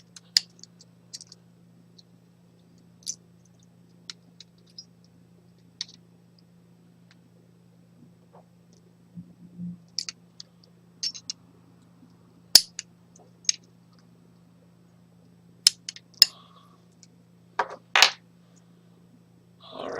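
Small sharp clicks of cutters snipping vape coil leads close to the posts on an RDA atop a mechanical mod, scattered single snips over a low steady hum, close and quiet with no talking.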